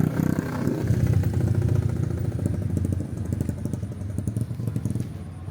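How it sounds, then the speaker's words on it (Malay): Motorcycle engine running steadily during a ride, a mid-pitched drone with some clatter and slight rises in revs, close and continuous throughout, with voices faintly in the background. "Oh, kita naik motor hari ni."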